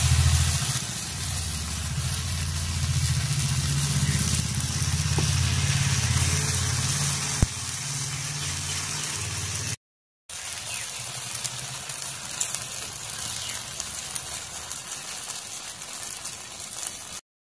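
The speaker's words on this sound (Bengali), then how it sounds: "আর একটা পরোটা ভাজি তুলে দেখাইতে।" Paratha made with papaya and sour yogurt frying in a pan of hot oil, giving a steady, close sizzle over a low rumbling hum, with a brief break partway through before the hiss resumes.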